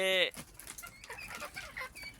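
Backyard native chicks and chickens cluck and chirp during morning feeding, with a loud crowing-like call at the start followed by scattered soft clucks and peeps nearby.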